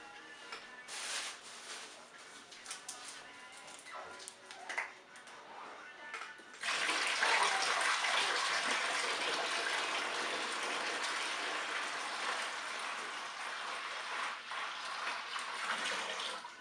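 Water gushes steadily from a sink tap to top up a roughly two-gallon cider container, a broad continuous rush that starts abruptly partway through after quieter sounds and runs to the end.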